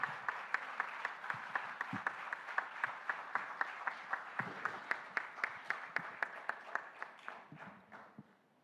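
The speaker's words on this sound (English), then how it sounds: "Can we have a huge round of applause for Sir," An audience at a leadership summit in Pune applauds the Chief Minister with a steady, rhythmic clapping, evenly spaced beats that carry on for several seconds before fading out, heard alone without talk.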